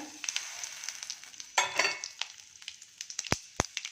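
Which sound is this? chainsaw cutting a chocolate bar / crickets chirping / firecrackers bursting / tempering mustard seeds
tempering mustard seeds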